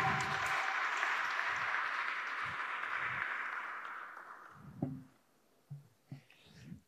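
Applause at a presentation of a new stadium project, moderate and fading away over about four seconds, followed by quiet breaths and small handling noises.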